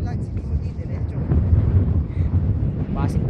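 Strong wind blowing on a mountain at night, gusting and buffeting close against the microphone, with a person talking over it.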